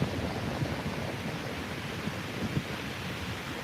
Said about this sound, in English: I should stop talking so you guys can just enjoy the sound of the waves.